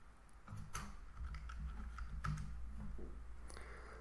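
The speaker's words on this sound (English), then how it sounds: "So I'm just typing that one in." Keys on a computer keyboard clatter in quick, irregular bursts of clicks, close and fairly quiet, with brief pauses between strokes and no talking.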